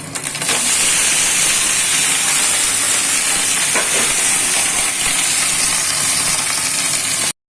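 Thin-sliced taro pieces fry in a pan for a spinach chorchori, giving a loud, steady hiss and sizzle that runs unbroken from start to finish, with no talking.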